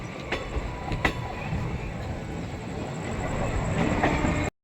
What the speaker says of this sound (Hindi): प्लेटफॉर्म नंबर 1 पे अपनी ट्रेन पहुंच रही है गाजियाबाद जंक्शन पे